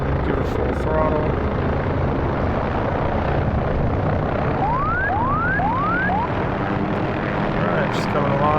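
Helicopter engine of an OH-6A in DCS World spooling up at full throttle, a loud steady whine and rotor hum throughout with rising chirping tones, a voice speaking over it.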